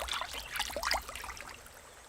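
River water trickles and splashes as a cartoon crocodile swims along carrying a monkey on its back; light, bubbly sounds come in short irregular bursts, fairly soft and close.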